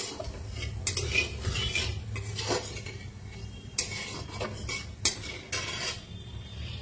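Black cumin seeds are stirred into the oil left from frying pabda fish, heard as a metal spoon scraping and clinking against the pan over a low, faint sizzle, with a few sharper knocks close by.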